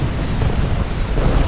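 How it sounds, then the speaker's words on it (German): A deep, rumbling explosion in the real-time strategy video game Ground Control 2, a continuous low boom filling the whole short moment, loud and heavy with no voices over it. "Hübsche Explosion."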